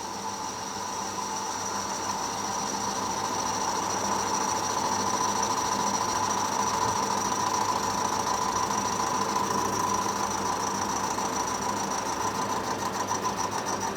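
A lathe-type machine running steadily at 155 while cutting the taper on a blow down valve, a continuous close mechanical whine with a fine rhythmic chatter, no talking.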